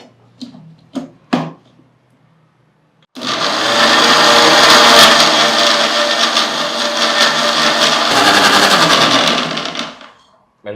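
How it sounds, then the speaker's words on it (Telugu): A mixer grinder blends juice after a few brief clicks and knocks. It roars loud and steady for about seven seconds, then stops abruptly with a brief rattle at the end. Nobody talks. "Mixie పట్టేసుకున్నాం madam."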